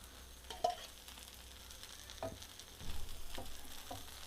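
Dosa batter frying in oil on a pan, a soft steady sizzle with a few faint clinks and scrapes, fairly quiet and heard alone.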